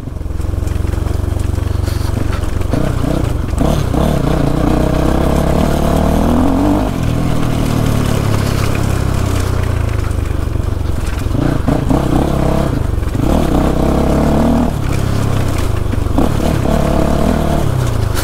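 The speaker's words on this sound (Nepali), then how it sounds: "अब डट बाइकलाई अफरोडमा अगाडि हाले अरे" A Crossfire dirt bike rides off-road on rough mountain tracks in Rolpa-Rukum, its engine loud and close, revving up and down with shifting pitch and occasional clatter across the whole stretch.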